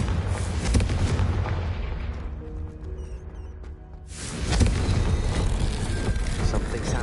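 Confringo explosion spell in Hogwarts Legacy, heard as a burst of booming, noisy blasts, then a short quieter lull before another loud explosive rush returns and keeps roaring to the end.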